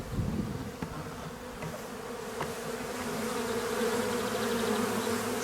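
Honeybees buzz steadily around hives at a small outdoor apiary while a beekeeper fits propolis grids, a dense continuous hum with droning tones, close and moderately loud, with a few faint clicks of handling and no talk.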